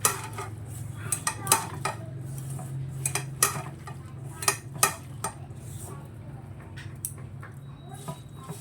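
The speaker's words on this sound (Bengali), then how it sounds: "এবার সব কিছু একটু মেখে নিই আগে" Fish is mixed with mustard oil in a bowl, heard as repeated sharp clinks and scrapes of a utensil against the dish in an irregular rhythm, with a faint voice murmuring in the background.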